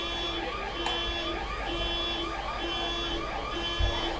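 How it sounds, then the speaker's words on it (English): At Historic Hicks Field, a summer collegiate baseball game between the Greenbrier Knights and Edenton Steamers, stadium loudspeakers blare a car siren, a steady wailing electronic tone with looping pitch sweeps filling the ballpark over crowd ambience. "As the loudspeakers here at Historic Hicks Field play a car siren."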